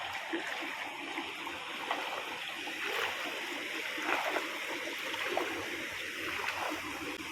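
A stream running beside the flooded Bharja river, with a steady faint wash of flowing water broken by small splashes and gurgles, heard from close by outdoors.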